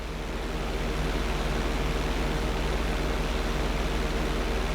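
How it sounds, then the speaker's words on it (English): Airplane engine during a flight-school obstacle run in the game GTA 5: a steady, loud, droning hum holds evenly throughout with no talk over it. "On my mark, roll your plane over to the opposite side and hold the position."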